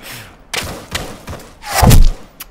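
Sharp gunshots in the Arma 3 survival game, a handful of cracks spaced irregularly, with one heavier, booming shot standing out, all fairly close and loud.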